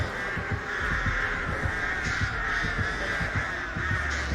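Crows caw continuously in the Dead by Daylight video game, a dense, steady chorus of harsh calls over a constant low ambient drone, with no talk.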